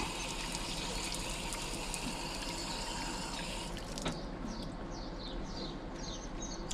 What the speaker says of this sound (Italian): Adesso andiamo a testare questa fontana.